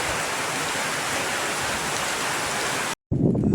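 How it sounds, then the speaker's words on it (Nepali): Heavy rain in hilly terrain, a dense loud hiss of downpour running nearly unbroken for about three seconds before a short gap and a burst of louder noise. "पानी ठुलो परेको अवस्था छ है"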